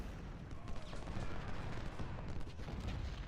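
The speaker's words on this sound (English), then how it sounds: "There are 2 brigades firing into him." Massed musket volleys from two Civil War brigades firing in Ultimate General: Civil War, a dense, continuous crackle of distant gunfire rolling on without pause, faint and steady throughout.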